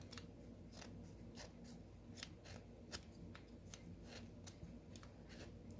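Dull scissors snip repeatedly at a cross-stitch kit, a series of faint, crisp, irregularly spaced clicks and cuts over a low background hum.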